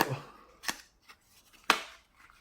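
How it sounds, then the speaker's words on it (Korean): Mega Drive Mini packaging being torn open: a few short, sharp rips and crackles of cardboard and plastic, close and fairly quiet, separated by brief pauses. "이거 한번 뜯어볼게요"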